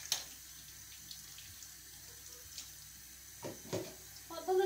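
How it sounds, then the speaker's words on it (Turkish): Tap water runs steadily into a kitchen sink to rinse cleaned sardines, a soft continuous hiss with a few louder splashes and clatters near the end. "Balıklarımı yıkayayım, salatamı da yapayım, vakitlicene yiyelim."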